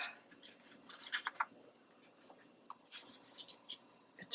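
Scissors snipping a tiny paper circle for a Christmas tag craft, a series of close, light crisp snips and paper rustles, quiet and irregular.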